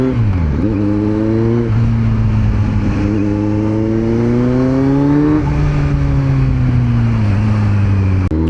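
A Kawasaki Z900 motorcycle pulls hard in third gear, its engine note rising, dipping briefly and climbing again in loud, close, smooth sweeps, with no talking.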